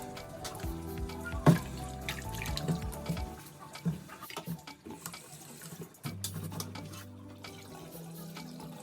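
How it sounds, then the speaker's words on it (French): Fumbois leaves being washed by hand in water at a sink, with running tap water, splashing and drips, a brief louder splash early on, then steadier trickling and sloshing. "Avant de préparer le fumbois, il faut le laver."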